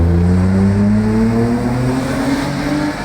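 Widebody BMW E34 driving on the road, its engine note loud and close throughout, with steady rising harmonics of a pulling gear and a little tire and road noise.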